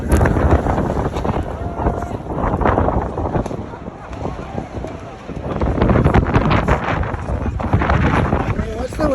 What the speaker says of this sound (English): The track was a complete mess with all this wind.